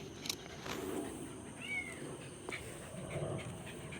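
A kitten trapped inside a sewer gives a faint, thin meow, muffled and distant within the pipe, over a low steady background rumble.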